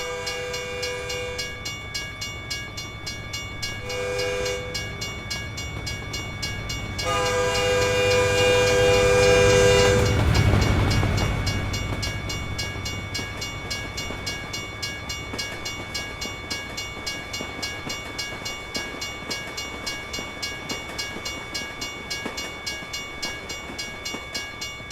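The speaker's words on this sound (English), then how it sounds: "They made those trains a little bit longer." A long freight train passes in American Truck Simulator with repeated horn blasts, followed by a swelling rumble and steady clickety-clack of wagons that continues for a long stretch.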